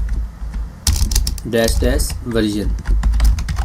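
Keystrokes on a computer keyboard while entering a command at a Windows command prompt, clicking in quick bursts that sit partly under a man's speech.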